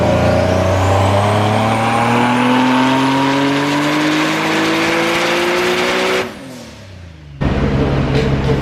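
A turbocharged Nissan 370Z on a dyno pulls hard, its engine note climbing steadily at loud, close range before cutting off sharply and dropping to an idle.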